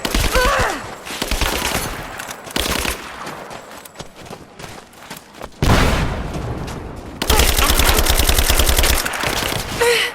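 Gunfire in the video game Rise of the Tomb Raider, loud bursts of automatic fire and booming shots in several volleys separated by short lulls.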